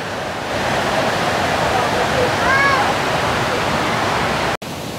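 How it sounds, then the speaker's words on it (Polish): The Dimchai river in Turkey rushes nearby with steady broad hiss and roar, constant and close, with a brief bird-like chirp midway and a sudden cut near the end. "Słyszycie szum wody za mną."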